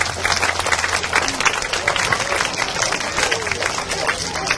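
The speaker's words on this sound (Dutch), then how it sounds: "Even een applaus en een welkom voor Desiree." Audience applause at a school climate project opening, a dense steady clapping from a crowd close by, continuous for the whole stretch with a low voice briefly audible underneath.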